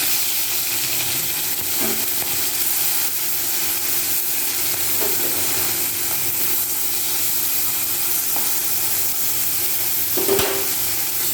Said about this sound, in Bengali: এরপর চিংড়ি মাছগুলো ভেজে নেব, ওই জন্য কড়াইতে তেল দিয়ে দিলাম